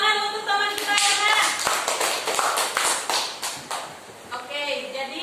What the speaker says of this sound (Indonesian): Tepuk tangan untuk teman kita Irna.